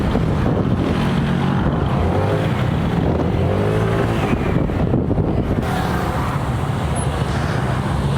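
Continuous engine drone of an FKM MTX motor scooter on the move in Tagaytay, mixed with heavy wind rush across the microphone, loud and unbroken throughout.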